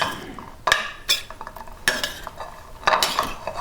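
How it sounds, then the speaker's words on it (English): Stirring bringhe, a Filipino sticky rice dish, with a spoon in a pan: several distinct scraping clinks and clatters of utensil against the pan, spaced irregularly and fairly close, with a faint sizzle underneath. "Stir it up."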